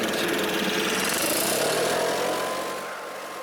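A powerful air blower roars steadily while drying a truck frame, a loud broadband rush with a motor whine that eases off in the final second.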